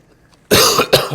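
A sudden loud cough, two sharp bursts close to the microphone after a moment of near silence.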